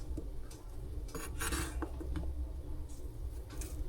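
A knife finely chopping cucumber on a board, giving light, quiet taps and scrapes in a short irregular run, with faint kitchen clatter around it.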